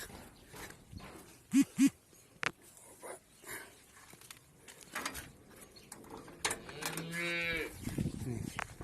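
Calves bleat and moo in short, separate calls: a close pair early on, then a longer drawn-out moo near the end, amid quiet barn clatter.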